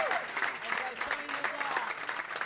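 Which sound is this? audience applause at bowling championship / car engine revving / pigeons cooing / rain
audience applause at bowling championship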